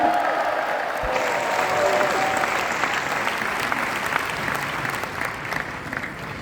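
A large church congregation at an Indonesian revival service claps and cheers loudly, a sustained wash of applause and shouting that swells early and slowly eases.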